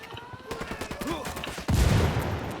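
Rapid automatic gunfire from the Ghost Recon Wildlands video game, a fast burst of shots followed by a louder, denser volley that continues to the end, while someone speaks over the early part.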